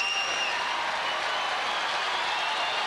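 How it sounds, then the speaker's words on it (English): Tennis crowd applauding during a tight fourth-set match between Rafter and Pioline, a steady, even wash of clapping from a large stadium audience that holds for about three seconds. "Crowd really starting to get into it now, and well, they should."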